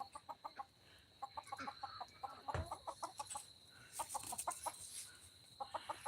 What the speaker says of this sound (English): you see how high this chicken's up in this tree?